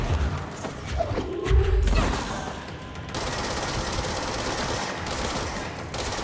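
Rapid gunfire in the video game Control, a dense rattling barrage with heavy thuds and crashes, loud and continuous throughout the fight.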